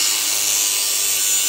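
A power tool cuts through the metal body panel of a Nissan 350Z with a loud, continuous high-pitched grinding whine, steady and close.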